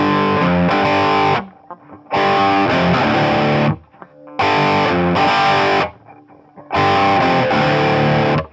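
A riff on distorted electric guitar, with full power chords struck in four loud chugging bursts separated by brief gaps, heavy and menacing, with no voices.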